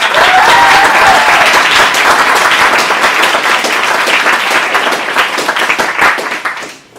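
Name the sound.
applause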